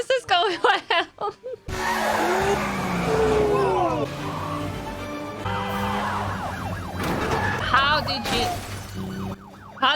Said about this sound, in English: That was the dumbest car chase of all time.